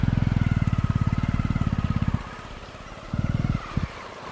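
A motorcycle riding through floodwater on a submerged road in Jaffna putters in a steady pulsing rhythm up close, cuts out briefly, then sputters back in short bursts.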